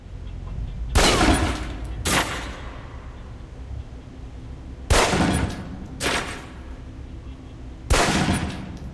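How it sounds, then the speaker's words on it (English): Pistol fire on a target range in the spy game Alpha Protocol, with five loud, sharp shots spread over the span at uneven intervals, each trailing into a short echo, and a low steady hum between them. "Equip the pistol, then aim down range and take some shots at the target."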